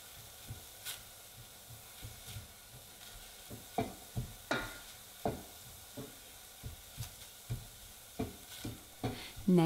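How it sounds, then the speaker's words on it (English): Onion and garlic sautéing over medium heat in a saucepan, a steady low sizzle broken by frequent close stirring scrapes and taps in an irregular rhythm, with no talking. "Sauté the aromatics over medium heat until translucent."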